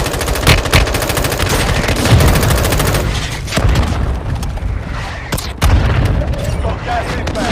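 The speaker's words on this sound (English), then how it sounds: "Mortar strike inbound now." Mortar strikes hit in Warzone Mobile, a military shooter game, amid dense, loud gunfire and repeated heavy booms that form a continuous barrage, with radio voices faintly under the din.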